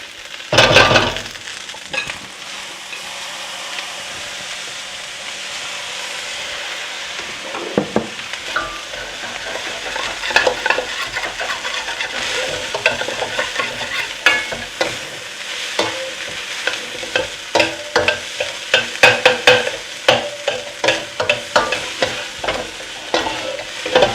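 Rice stir-fries in a hot pan with a constant sizzle, while a utensil scrapes and stirs across the bottom in a growing run of quick clinks and scrapes, close and steady with no talk.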